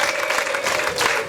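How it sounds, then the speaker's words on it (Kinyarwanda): Dense applause and ululation from a wedding crowd fill the space, loud and continuous without a break, with high trilling cries riding over the steady clapping. "amashyi n'impundu"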